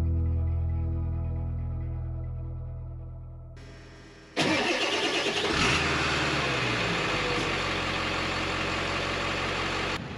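A pickup truck with a rebuilt 10.25-inch Sterling rear axle cranks and fires up partway through after a fading tonal hum. The engine then runs loudly and steadily close by until the end.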